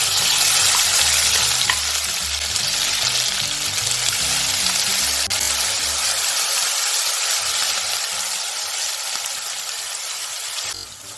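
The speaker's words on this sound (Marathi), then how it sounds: "आता ही जी पेस्ट आहे ती आपल्याला तेल सुटेपर्यंत फ्राय करून घ्यायची आहे" Ground cumin paste fries in oil for dhaba-style dum aloo gravy, a loud, steady close-up sizzle that runs throughout, with occasional faint stirring and no talking.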